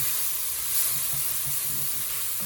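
Onions for Tex-Mex chili fry in a pot, browning with a steady close sizzle and soft steamy hiss, a few faint low bumps beneath, nobody talking.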